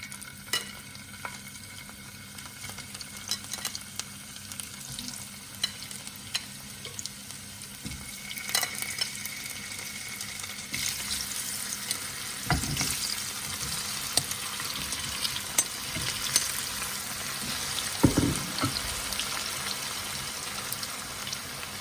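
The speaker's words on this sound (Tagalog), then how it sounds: "Kapag mainit na yung ating mantika, ay pipirituhin natin yung ating cassava." Cassava pieces frying in hot oil for a soy-glazed dish, a steady soft sizzle and bubbling throughout with occasional louder crackles and utensil clatter, close by and with no talking.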